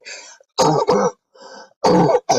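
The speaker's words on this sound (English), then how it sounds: "that coughing and hacking is a dachshund" A dachshund coughs and hacks in several short, harsh bursts close by, with brief pauses between fits.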